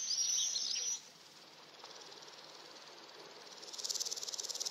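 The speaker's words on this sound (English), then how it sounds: "The grasshopper. He makes that noise by scraping his wings and legs together." A grasshopper stridulates by scraping its wings and legs together outdoors in the sun, a bright rasping buzz that cuts off after a second and then returns as rapid pulsed chirps, clear and near.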